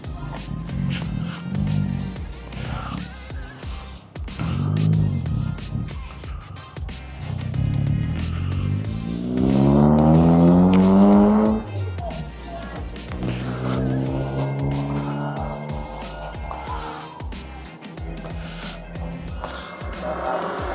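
Roadside traffic beside a cafe in Sta. Maria, Bulacan, with cars and motorbikes passing close by, engines rising and fading one after another in a loud, steady stream.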